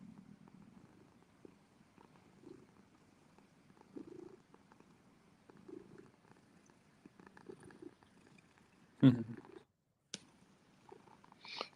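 A cat purrs faintly and close by in soft, rhythmic pulses, with a few louder handling bumps and a brief quiet gap partway through.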